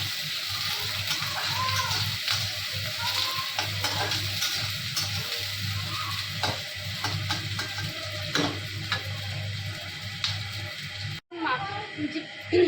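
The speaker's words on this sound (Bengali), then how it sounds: "পেঁয়াজগুলো ভালো করে লাল করে ভাজা হয়ে গেছে।" Onions frying in a pan until browned give a steady, moderate sizzle with occasional stirring clicks, while voices murmur in the background and a low hum continues throughout.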